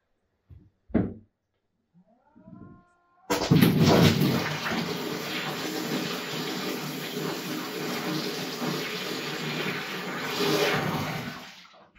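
Water gushes steadily from a bilge pump fitted with a 3D-printed impeller and pushed through an 8 mm nozzle, a loud continuous rushing wash that starts abruptly after a few faint clicks and a short rising whine.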